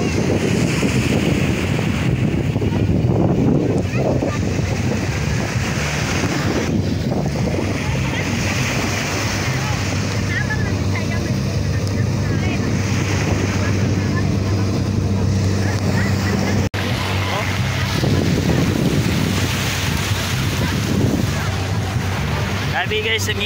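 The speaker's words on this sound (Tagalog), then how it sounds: "Gawa ng hangin, lakas." Strong wind buffets the microphone at Caasinan beach, a constant low roar and rumble with surf washing underneath, loud and unbroken throughout.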